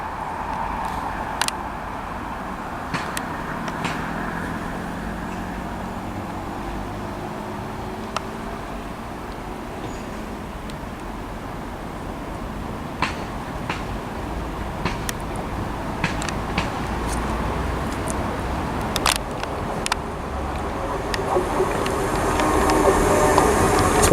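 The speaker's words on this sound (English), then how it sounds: "arriving in now is the delayed 1426 ScotRail service to Dunblane from Edinburgh" A delayed ScotRail service from Edinburgh to Dunblane arrives at Linlithgow station: a low, steady rail rumble with scattered sharp clicks and clanks that swells toward the end as the train draws in.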